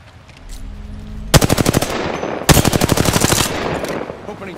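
Two bursts of rapid automatic machine gun fire in a video game, each a quick rattling string of loud shots, close and punchy, with a short pause between them.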